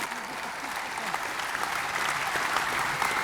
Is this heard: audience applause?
yes